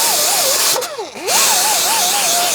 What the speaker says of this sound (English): I'm using an aluminum pad on my die grinder just to get up inside here.